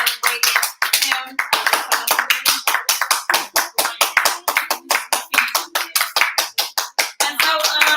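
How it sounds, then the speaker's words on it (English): A group claps loudly at a Kwanzaa gathering, the sharp handclaps falling in a fast, fairly steady rhythm close by and continuing without a break. "So that deserves a round of applause."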